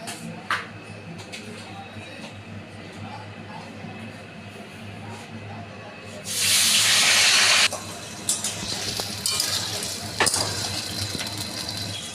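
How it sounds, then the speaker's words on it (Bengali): Potatoes frying in hot oil, a steady low crackle that swells into a loud, bright hissing sizzle for a second or so, then settles back, with talking heard over it. "ওই তেলে আমরা আলুগুলোকে ভেজে নেব।"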